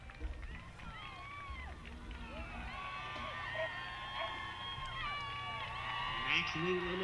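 Spectators cheer and whoop at a dog agility competition, a sustained crowd roar with shrill whistles and calls rising toward the end, heard under ongoing announcer talk.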